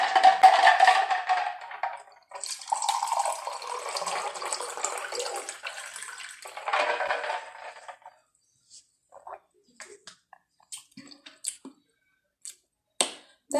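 Sparkling cider is poured into a glass as a continuous fizzing, splashing stream for about eight seconds, then stops and gives way to scattered clinks and small knocks while the drink is stirred.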